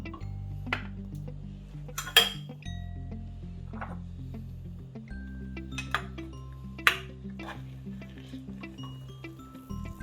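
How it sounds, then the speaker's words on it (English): Vegan rice porridge, a Filipino arroz caldo with ginger, garlic, turmeric and lemongrass, ladled from a pot into a bowl: a few sharp utensil clinks against metal and ceramic over a steady backdrop of sustained low tones. "And so we're gonna ladle this into a bowl."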